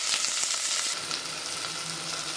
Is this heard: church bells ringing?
no